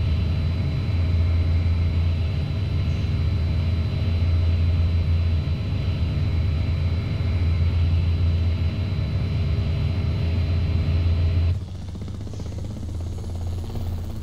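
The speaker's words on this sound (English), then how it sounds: "I hope the helicopter sound's coming through for you guys when I post this video." A Cobra attack helicopter in flight gives off a loud, steady rotor thump and turbine roar that fills the cabin, then drops slightly in level near the end.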